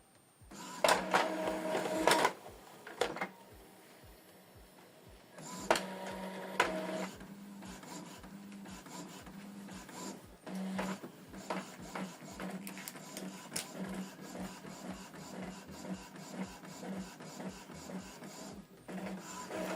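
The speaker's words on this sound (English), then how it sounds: "So it's printing out nozzle check" An Epson EcoTank ET-2862 inkjet printer runs a nozzle check printout, with the print head shuttling back and forth in quick mechanical passes and feed clicks, close and moderately loud, with no voices.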